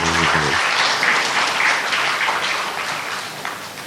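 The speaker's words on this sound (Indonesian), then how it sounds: "Sekali lagi tepuk tangan untuk anak-anak dan orang tua" A crowd at a student medal presentation ceremony applauds children and their parents. Loud, sustained clapping from many people follows a brief voice at the start.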